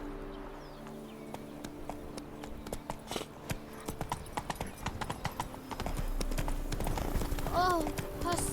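A horse gallops in the video game The Witcher 3: Wild Hunt, its quick rhythmic hoofbeats rising from a walk into a fast run, ending with a short whinny, over a low ambient music bed.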